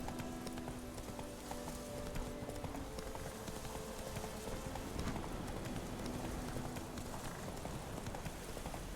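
Roach, the horse in the video game The Witcher 3, gallops with rapid, steady clip-clop hoofbeats that run continuously at moderate loudness over a busy outdoor ambience.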